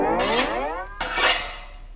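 A knife is sharpened with two long rasping strokes of metal against metal, the first with a rising ringing scrape and the second broader and hissier, close and fairly loud with no speech.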